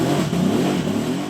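A Harley-Davidson Sportster S with its Revolution Max V-twin engine revs in a short, loud burst, holding a grunty, steady roar with slight rises and dips in pitch.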